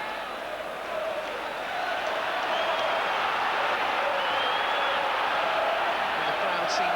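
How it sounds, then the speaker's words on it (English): Football crowd at a Sunderland v Liverpool FA Cup match in 1982, a broad distant roar of cheering that swells after the first seconds and holds steady, with commentary faintly over it. "And the crowd seems to have responded to that as well."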